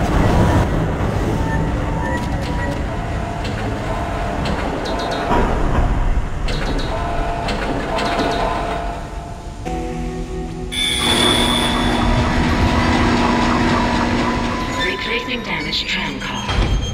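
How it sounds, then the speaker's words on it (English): A tram rumbles heavily along its tracks in the sci-fi horror game Dead Space, with a dense mechanical roar, clanks and thuds as voices talk over it. "The tram is blocking the whole system."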